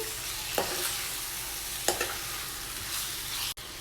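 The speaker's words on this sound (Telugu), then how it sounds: "మటన్ యాడ్ చేసిన తర్వాత మటన్ అంతా కూడా బాగా కలిసేటట్టు మిక్స్ చేసుకోవాలండి" Mutton sizzles quietly in a pan while a utensil stirs it, making a soft continuous fry with a few distinct scraping strokes. The sound is faint and there is no talk.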